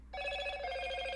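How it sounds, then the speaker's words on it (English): A phone rings with a bright electronic tone that starts abruptly and holds steady and loud to the end, with no talking over it. "Oh, that's my phone."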